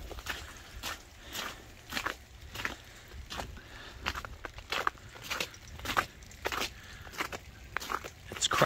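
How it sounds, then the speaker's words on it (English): Footsteps crunching on icy, hail-covered ground like snow on a driveway, a steady walking rhythm of close, crisp crunches, one per step, with quiet rain-soaked outdoor ambience between them. "Crunching like snow under my feet."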